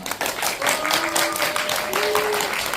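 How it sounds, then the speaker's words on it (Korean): Cinema audience at a Lotte Cinema premiere event for the film 만남의 집, applauding to welcome the director and actors: continuous crowd clapping, moderately loud and even, with brief tonal sounds threaded through. "감독님과 배우님들 큰 박수로 모셔보겠습니다"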